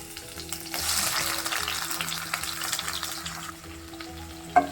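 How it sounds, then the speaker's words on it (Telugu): Tomato and onion frying in oil in a pan, heard as a steady close sizzle that swells after the first second and holds, with light stirring and a sharp clink near the end, no voices. "ముందుగా మనం స్టవ్ వెలిగించిన తర్వాత దీంట్లో టమాటా, ఆనియన్ కొంచెం డీప్ ఫ్రై చేసుకోవాలి"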